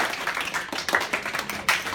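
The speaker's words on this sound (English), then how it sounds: "I want y'all to start clapping. We're going to do a round of applause." A workshop group claps together in a dense round of applause, the many hand claps blurring into a steady wash with a few louder bursts, close to the listener and not mixed with talk.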